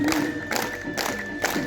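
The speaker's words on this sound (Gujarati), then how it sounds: "જોરથી તાળી." A weight-loss yoga aerobics class claps hard in unison, four loud rhythmic group claps spaced about half a second apart, with voices calling along.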